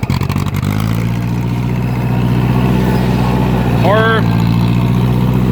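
A 2010 John Deere gas-burning tractor engine idles with a steady, loud mid-pitched drone and an uneven rumble early on, while a voice briefly speaks over it.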